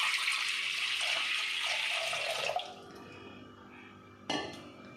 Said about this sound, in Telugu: ఇప్పుడు దీంట్లో మనం తీసుకున్న హాఫ్ లీటర్ మిల్క్ని యాడ్ చేసుకుందాం.